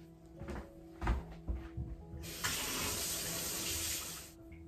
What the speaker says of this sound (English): So let me wet my knife.